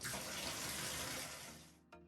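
Hot water gushes steadily from a tap into a laundry tub for towel stripping, a loud, continuous splashing rush that cuts off abruptly near the end with a brief final drip.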